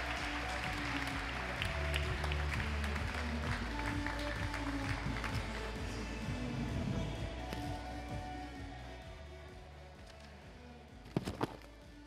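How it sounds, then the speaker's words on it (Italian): An audience applauds at the Italian bouldering championship finals in Forlì. Broad, sustained clapping fills the hall over a thumping rhythmic beat, fades gradually, and ends in a few sharp knocks. "Facciamogli un applauso e cominciamo con il campionato italiano 2023"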